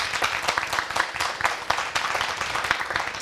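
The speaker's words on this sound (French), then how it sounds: "ce merveilleux public, ouais. qui va encore s'applaudir," Studio audience at a Burkinabè television variety show applauding steadily throughout, dense continuous clapping with no pauses and no speech over it.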